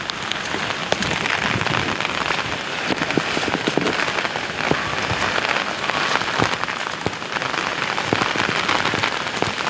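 Heavy monsoon rain falls steadily outdoors, drumming on an umbrella and the ground around waterlogged castor fields. A dense, loud, unbroken hiss is dotted with close drop impacts, and nobody speaks.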